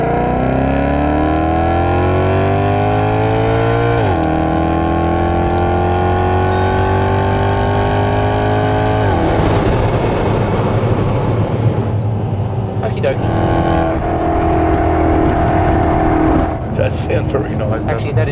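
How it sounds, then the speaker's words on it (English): The V8 engine of a 2014 Maserati GranTurismo Sport revs hard, its pitch climbing in long sweeps, then settles into a deep burbling idle with short throttle blips, loud and close. "It's hard to imagine a better sounding V8 than that."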